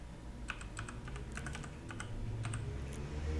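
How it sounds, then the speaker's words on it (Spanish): Username and password being typed on a computer keyboard at an AS/400 login screen: quick bursts of soft key clicks, close but quiet, over a steady background hum. "Introducimos usuario y contraseña"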